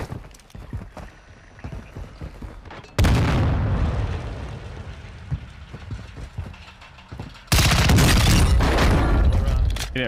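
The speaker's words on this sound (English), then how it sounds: "these shots are just so loud compared to my headset" Loud bursts of video game gunfire in an online shooter arrive in two heavy, close volleys separated by quieter stretches of smaller pops and noise.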